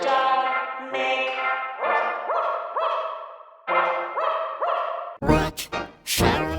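A dog barks and yips repeatedly in close, loud bursts, the sharp barks coming in quick rhythmic clusters with a few brief whimpering tones between them.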